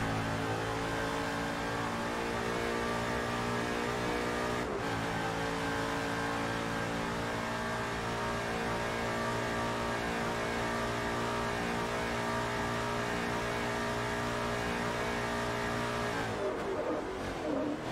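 A race car engine in Forza Motorsport 3 holds a loud, steady high-rev drone with dense harmonics for most of the run, with a brief dip near five seconds and the note dropping away toward the end.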